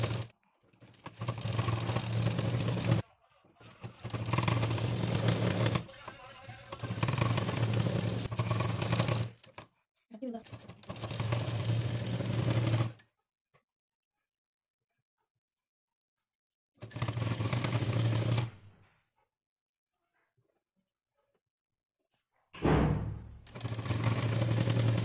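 Sewing machine stitching a folded fabric hem along a screen's open edge, running in several sustained loud bursts of a few seconds each, separated by pauses and near-silent stretches, with no talking.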